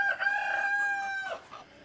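A farmyard rooster gives a single clear crow among backyard chickens, the call held loud and close for over a second before trailing into a few softer clucks.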